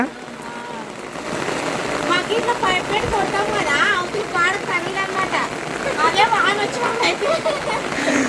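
Heavy monsoon rain pours outdoors and runwater streams along the ground in a steady, loud wash, with people talking over it throughout.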